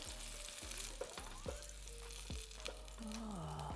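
Salmon fillets sizzling in a hot skillet, a steady crackling fry with clinks and scrapes of a utensil against the pan, close and fairly quiet.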